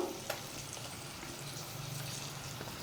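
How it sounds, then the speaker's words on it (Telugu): Ginger garlic paste frying in hot oil for an Andhra-style korameenu fish curry, a soft, steady sizzle with light stirring scrapes, quiet and without talk. "ఇప్పుడైతే అల్లం వెల్లుల్లి పేస్ట్ అయితే నేను వేసేస్తున్నాను"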